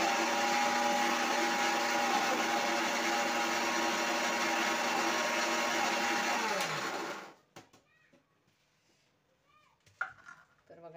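Mixer grinder grinding roasted coriander seeds into powder, a loud steady motor whine for about seven seconds that winds down and stops, followed by faint clatter as the jar is handled.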